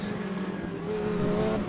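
Race car engines from the RaceRoom racing game, a BMW WTCC touring car event at Laguna Seca, drone loudly at high revs in a steady harmonic whine that swells slightly toward the end, with no voices.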